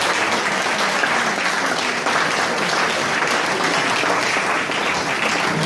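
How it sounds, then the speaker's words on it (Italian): Audience applause welcoming the Orchestra Popolare Sarda at the Sa Festa de Is Launeddas festival, a full, even roar of many hands clapping that holds steady throughout. "li accogliamo tutti con un applauso."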